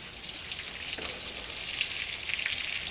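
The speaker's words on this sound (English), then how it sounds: "That is sizzling up very nicely." Chicken frying in hot oil, a close, steady sizzle with scattered pops and crackles throughout.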